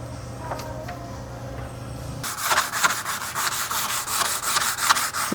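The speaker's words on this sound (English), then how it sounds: "So I gotta sand this whole thing with this thing?" Hand sanding in the engine bay of a 240 during paint prep, quiet at first, then a steady rhythmic scratchy rubbing of sandpaper on metal, close and fairly loud.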